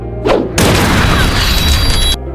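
Shotgun blast in a film scene, a loud close boom that lands on a sofa, with a sharp whoosh just before the blast and a heavy sustained roar that cuts off abruptly.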